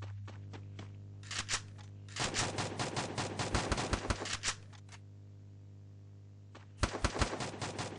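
MP40 submachine gun fire in Free Fire, several rapid automatic bursts, short snaps early, then a long rattling string, a pause, and another burst at the end, over a constant low hum.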